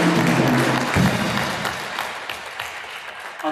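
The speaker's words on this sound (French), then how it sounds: "On nous applaudit nous." Congregation applauding at a Haitian Catholic Creole Mass, a dense wash of clapping from a church crowd that gradually thins and fades, with a low voice or organ-like tone in the first second.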